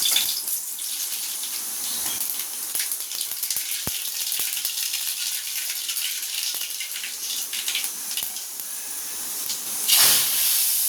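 Mustard seeds, fennel and cumin hit hot oil for a tamarind kara kuzhambu, giving a steady close hiss peppered with tiny crackles and a louder sizzling burst near the end.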